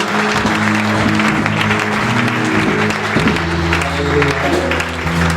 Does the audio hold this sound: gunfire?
no